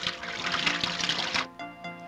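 An open household faucet gushes with a steady, hissing stream of tap water that cuts off abruptly partway through, leaving a faint trickle and quiet.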